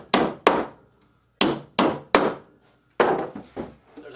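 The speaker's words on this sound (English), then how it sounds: "Don't hammer all the way in until you know you're right on the money." A hammer driving nails into pine boards for honey bee boxes, seven sharp, ringing strikes close by, coming in irregular pairs and singles with short pauses between them.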